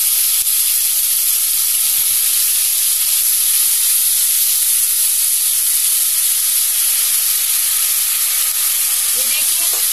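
Mustard seeds, curry leaves and onion paste frying in hot oil for a surma fish gravy, giving a loud, constant, close sizzle that holds steady throughout with no speech.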